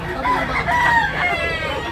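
Rooster crowing at a Cebu market in Tabunok, a moderately close call rising and falling over a couple of seconds amid background bustle.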